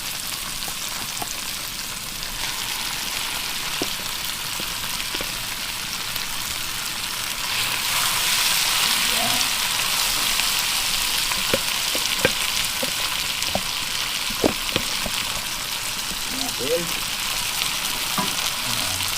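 Fermented rice and tilapia (burong tilapia) hits a hot pan with softened tomatoes, giving a steady, close sizzle and hiss of frying that grows louder midway, with occasional small pops and stirring scrapes.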